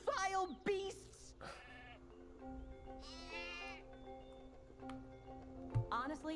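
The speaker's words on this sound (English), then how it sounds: "Honestly, Hugo, they're just sheep." Sheep in the Skylanders Spyro's Adventure game bleat in short, wavering cries near the start and again later, over a soft musical backdrop with some voice activity mixed in.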